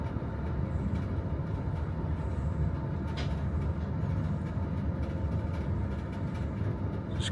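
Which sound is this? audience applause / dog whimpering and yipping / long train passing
long train passing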